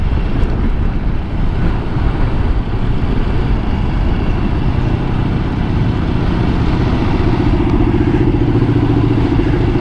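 A Harley-Davidson motorcycle rides through Urca and Botafogo with its engine rumbling loud and close, a steady low throaty drone with clattering mechanical texture that holds throughout.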